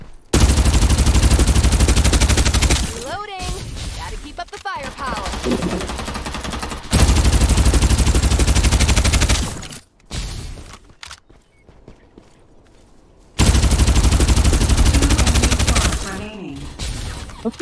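Rapid automatic gunfire in the battle game Farlight 84 comes in loud, sustained bursts broken by short quiet gaps, with a few mechanical clicks between volleys.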